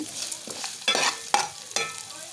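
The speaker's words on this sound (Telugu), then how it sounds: "ఇలా ఒక లో ఫ్లేమ్లో అయితే వన్ టు టూ మినిట్స్ అయితే మనకు ముందుగా ఈ ఆనియన్ అయితే వేగనియాలి" Onion frying over a low flame in a pan for a leftover rice tempering dish, with soft sizzling broken by several sharp stirring scrapes and clatters of a spoon, close and fairly quiet.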